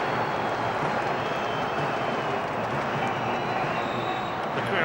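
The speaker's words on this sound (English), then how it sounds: "The crowd are getting more into the game now" A football stadium crowd during a Sheffield United match, a steady dense roar of cheering and clapping spread evenly throughout, distant and unbroken, with no single voices standing out.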